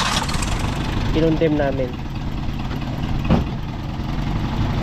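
A Toyota 5K engine runs at a low, slightly sagging idle, a steady close mechanical drone throughout, while someone speaks briefly over it.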